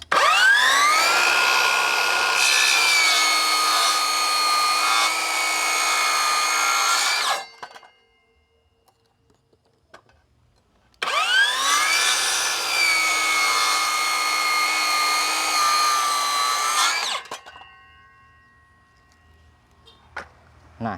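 A RYU RCCS185 circular saw, fitted with a new blade, rips through wood in two long loud cuts of about seven seconds each with a steady high whine, separated by a quiet pause, then winding down.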